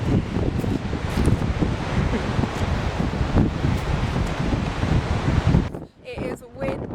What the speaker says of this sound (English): It is windy. So windy.